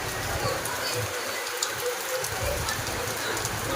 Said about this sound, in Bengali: দেখো কী জোরে বৃষ্টি